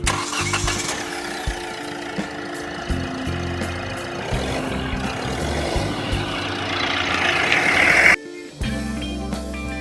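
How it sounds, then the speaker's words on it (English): Engine of a 2018 Hyundai Creta running at idle, a steady mechanical hum with faint ticking, heard up close before an abrupt cut near the end. "Here is the engine of the car. As you can see, let's hear the sound of the car."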